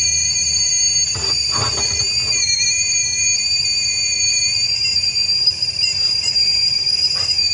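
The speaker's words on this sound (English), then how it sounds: "It's gonna be whistling soon." A kettle on a propane stove whistles loudly and continuously at a shrill, steady pitch, close by, with a few faint knocks underneath.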